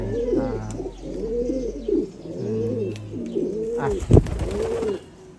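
Breeder homer pigeons in a loft coo in repeated rolling phrases, close and clear, with a brief sharp knock near the end and no talk.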